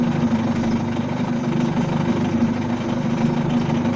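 A broaching machine pushes a broach through metal, each tooth cutting in turn, giving a steady mechanical hum with a constant low drone and a faint tonal whine throughout, continuous and even with no talk.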